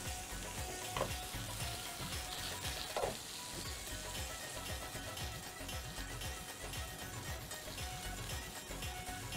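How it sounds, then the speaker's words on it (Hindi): Faint, continuous sizzling of a baghar tempering frying in oil, a soft steady hiss with a couple of small crackles, no voices. "इसी में मैं इसका बघार बनाऊंगी और फिर मैं इसको फ्राई करूंगी"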